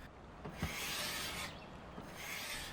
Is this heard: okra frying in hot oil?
no